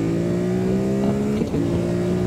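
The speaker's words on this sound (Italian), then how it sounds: "Adesso proviamo un'accelerazione per far sentire un po' quelle che sono le prestazioni." A QJ Motor SRT550SX adventure motorcycle engine drones steadily up close, its pitch climbing slightly as it accelerates.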